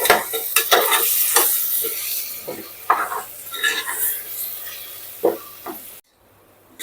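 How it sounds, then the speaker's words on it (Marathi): Spiced Khandeshi masala khichdi sautéing in a pan, with a steady sizzle and repeated scraping stirs and spoon clinks against the metal, close and loud, before a brief near-silence at the end. "आता पुन्हा आपण परतून घेऊया"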